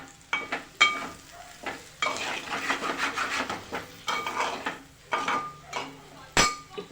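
A spoon stirs coriander powder into a vegetarian liver fry in a metal pan, giving a series of scraping, clinking strokes over a soft sizzle, with one sharp clank near the end.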